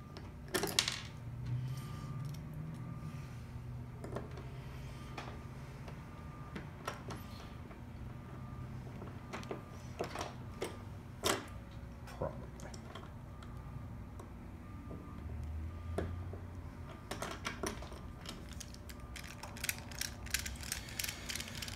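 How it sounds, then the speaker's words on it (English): A ratchet torquing screws down on a Simplex 1000, with repeated clicking and short mechanical ratcheting bursts, metallic taps and small clanks in an irregular working rhythm close by. "Let's torque some screws down on it."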